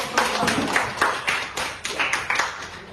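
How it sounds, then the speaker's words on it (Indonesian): A small group in a classroom session claps for group D's answer, giving a short burst of about ten sharp, fairly quick claps. "saya berikan aplaus dulu"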